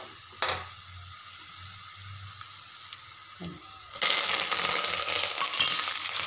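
Upma ingredients sizzle steadily in hot oil in a pan, a dense close hiss that swells louder partway through, with a sharp clink and a few faint clatters of a utensil and no talking.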